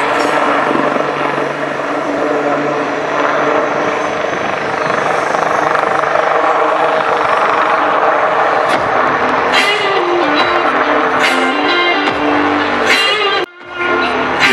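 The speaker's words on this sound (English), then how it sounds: "Here the light utility helicopter is performing the rearward fly, which will culminate in the extreme tail-up maneuver." A HAL Light Utility Helicopter performs flying display maneuvers at the Aero India 2023 air show, a loud steady rotor and turbine roar with shifting pitch that drops out briefly near the end.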